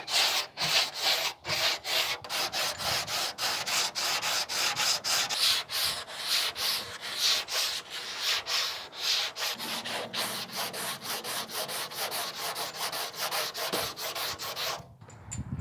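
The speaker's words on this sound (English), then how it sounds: "I'm hitting it here with the 220 grit to get it shaped" Hand sanding the body of a 1987 Mazda RX-7 with 220-grit paper on a round sanding block, rhythmic back-and-forth rasping strokes, close and steady, slowing to softer rubbing before a brief pause.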